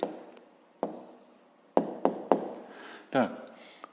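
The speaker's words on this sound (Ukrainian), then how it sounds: "Пишемо відповідь." A pen writes out the answer to a fifth-grade math exercise: quiet scratching strokes broken by a few sharp taps against the paper, close and faint.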